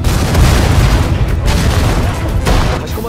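Heavy artillery booms in the WWII strategy game Sudden Strike 4's Pacific War Japanese campaign, a dense continuous rumble of loud blasts with sharper cracks near the middle and end.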